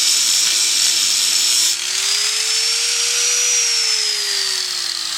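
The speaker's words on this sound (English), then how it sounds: "Now I'm going to take the grinder and cut these tack welds out of here" An angle grinder cuts out tack welds on a steel can, a loud, close, high whine that shifts pitch partway through as the disc bites into the metal and then eases, continuous with no talk.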